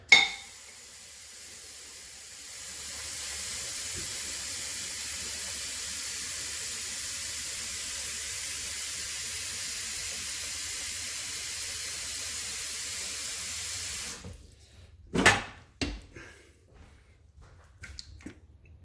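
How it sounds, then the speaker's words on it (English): Tap water pours steadily into a kitchen sink for about eleven seconds to cover a pot of chicken, a soft broadband rush that stops abruptly, followed by a few close clinks of cookware. "All right, I am going to now put this in the sink. Just going to cover it with water"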